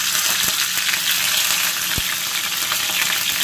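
Green chillies crackling in hot oil with mustard seeds and cumin, a loud, dense, continuous sizzle up close with a couple of faint clinks.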